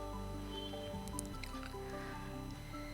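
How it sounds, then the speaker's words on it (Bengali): Eggplant slices laid into hot mustard oil in a pan, giving soft wet sizzling and crackling pops at close range, with no talking. "তেলটা গরম করে নিয়েছি গরম করে এবার আস্তে আস্তে করে বেগুনগুলো এবার এর মধ্যে দিয়ে দেবো"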